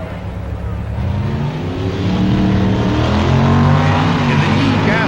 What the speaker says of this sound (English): The Dodge pickup truck was converted to racing and is powered by a 425 horsepower V8